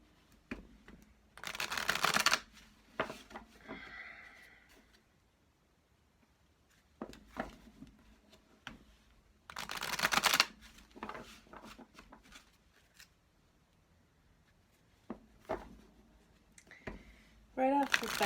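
Goddess oracle cards being shuffled in brief crisp bursts of riffling and flicking, a few separate rounds with quiet pauses between, close to the microphone, with a person speaking softly in between.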